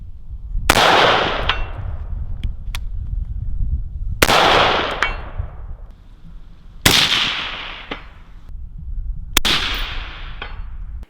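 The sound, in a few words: gunshots from TypeA 11.5 Pro rifle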